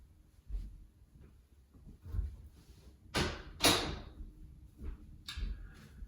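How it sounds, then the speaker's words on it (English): A bedroom door swings shut with a couple of firm thuds and a brief creak, close by and fairly loud against a quiet room, with soft handling noises before and after. "Gonna close my door."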